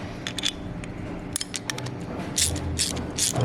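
A ratchet wrench clicks rapidly in short bursts while tightening bolts on an upTOP Overland Alpha roof rack, close and fairly clear with faint metallic handling between strokes.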